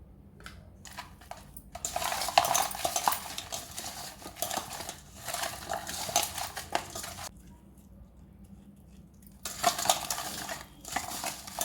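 Goat legs being rubbed by hand with turmeric and salt, bursts of wet squelching, crinkling and clattering against a metal dish, separated by quieter pauses, close and moderately loud.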